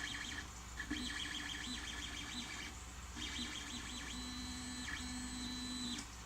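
An Ender 3 3D printer runs steadily, its stepper motors whining in shifting tones over a constant fan hum, with a brief pause midway before the motor sounds resume.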